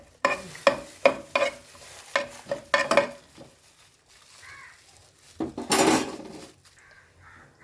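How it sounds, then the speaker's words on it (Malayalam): Cashews fry in a pan while a spoon stirs them, making a series of sharp scraping and clinking strokes over a soft sizzle, then a pause and a louder burst of stirring near the end. "നമ്മളിപ്പോൾ കശുവണ്ടിട്ട് എല്ലാം ഇളക്കി കൊടുക്കുക"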